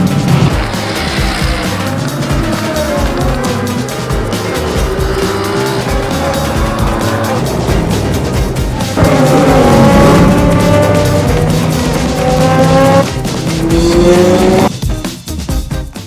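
GT3 race cars circuit a track in a race on a wet, rainy day, engines loud and close with rising and falling gear-change whines, tires squealing, and cars sweeping past continuously throughout.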